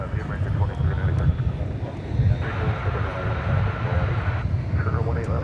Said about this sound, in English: we got a Delta flight coming in, Delta Flight 420 from Los Angeles. It's an Airbus A320.